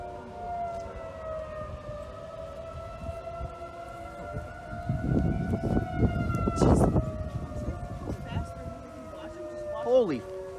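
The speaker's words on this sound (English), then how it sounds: "They're all going off because there's a tornado warning. But reason they sound different is because they're different models of sirens." Several tornado warning sirens of different models wail at once across Kane County, Illinois, their long rising and falling tones overlapping at a distance, with wind rumble and brief voices underneath.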